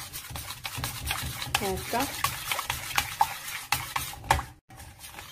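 A warm chocolate and caramel mixture is stirred in a pot, giving soft repeated scraping and sticky swishing strokes with light clinks, while a voice speaks briefly nearby.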